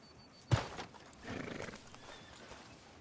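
Horse in Red Dead Redemption 2 arriving outside a sheriff's office: a sharp hoof thud or snort, then a soft burst of clip-clop and breathy movement, fairly faint and close.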